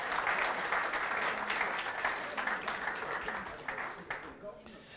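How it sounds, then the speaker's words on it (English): Audience at a memorial symposium applauds a dignitary in a dense, sustained wash of clapping that gradually thins and tapers off toward the end. "Can I invite us to give another round of applause for His Excellency?"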